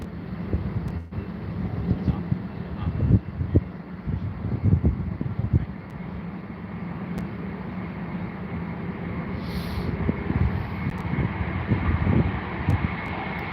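A Finnair airliner on approach to London Heathrow at dusk makes a steady distant engine roar that swells and rumbles over wind noise, with faint voices nearby.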